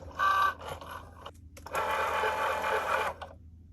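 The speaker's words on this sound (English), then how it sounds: "my Joy Machine is going to do all the score lines for me" A Cricut Joy Machine craft cutter scores lines on card with a foil tool, whirring motor bursts starting and stopping, then a longer steady buzzing run, close and moderately loud.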